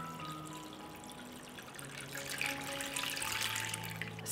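Water pours steadily into a cooking pot holding a cloth and glass jars, a continuous splashing stream that grows a little fuller and louder partway through, heard close up with no voices.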